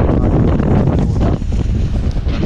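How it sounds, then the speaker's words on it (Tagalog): Strong typhoon wind batters the microphone in loud, continuous low rumbling gusts, close and unbroken, with no voices. "Grabe yung lakas ng hangin."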